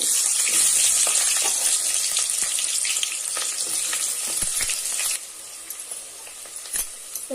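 Cinnamon, cloves, bay leaf and onion fry in ghee for chicken biryani, giving a dense, close sizzle with occasional stirring clinks that eases and thins toward the end.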